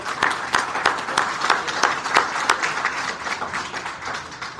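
An audience at a public-school tutoring forum applauds steadily, a dense wash of many hands clapping at moderate loudness throughout, with no talking over it.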